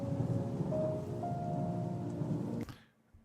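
A rain sound effect plays as a steady, dense hiss with a low rumble, then cuts off abruptly near the end, leaving quiet. No one speaks.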